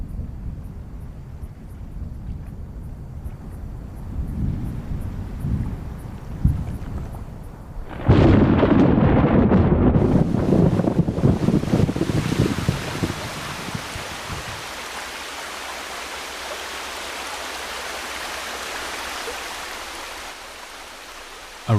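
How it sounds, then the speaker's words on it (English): Rainstorm over a sea gulf among mangroves, with a crash of thunder partway through, followed by steady hissing rain and a low wind rumble, no voices. "A rainstorm arrives,"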